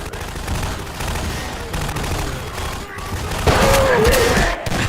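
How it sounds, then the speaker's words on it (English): Grenade launcher fire in a shooter video game: a dense spread of shots and bursts runs throughout the clip, swelling louder near the end, with a voice underneath. "Grenade fire!"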